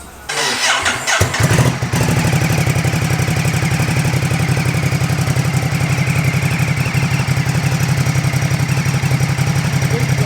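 A 2021 Ducati Supersport 950s motorcycle cranks briefly, fires up and settles into a loud, steady, close idle with a fast even throb that runs to the end.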